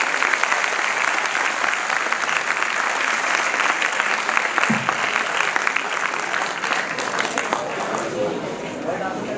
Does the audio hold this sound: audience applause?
yes